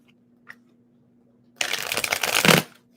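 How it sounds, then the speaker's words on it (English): Tarot cards being shuffled up close, a dense riffling burst of papery flutter lasting over a second after a quiet pause with a faint tap. "One more shuffle for Taurus."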